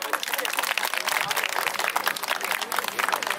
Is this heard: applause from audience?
yes